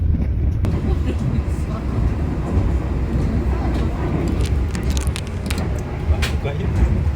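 Steady rumbling clatter of a moving executive-class passenger train heard from inside, continuous and fairly loud, with faint scattered squeaks and rattles.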